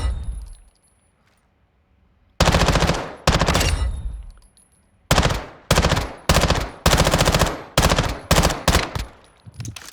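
BASP submachine gun fire in Modern Warfare 2 (2022) comes as several loud, close bursts of rapid automatic shots separated by short pauses, following a quiet opening stretch.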